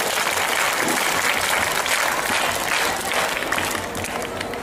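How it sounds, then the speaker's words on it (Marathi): An audience at a school competition event gives a guest a strong welcome round of applause, with dense, steady clapping from a crowd that fills the space evenly from start to finish. "पुन्हा एकदा साहेबांचं जोरदार टाळ्या वाजवून आपण स्वागत करूया।"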